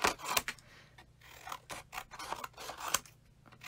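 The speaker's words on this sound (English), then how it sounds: "Okay, so I'm just going to take my scissors." Scissors cutting away paper crafting material, a series of close, quiet snips and scraping slides in an irregular rhythm, with no talk.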